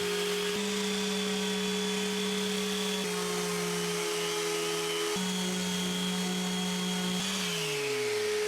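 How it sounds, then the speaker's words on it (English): Power sanding on a wooden sailboat frame, a steady motor whine with sustained tonal hum that shifts pitch slightly in a few steps, continuous and close, with no talk. "And the final treatment was just a bit of sanding."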